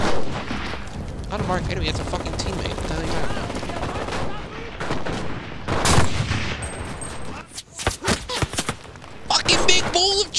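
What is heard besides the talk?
gunfire in the video game Enlisted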